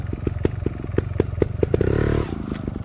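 Dirt bike popping a wheelie and rocking over a log off-road, with a rapid, rhythmic engine putter and clattering knocks, a brief rev swelling near the end before settling back to a close, steady chug.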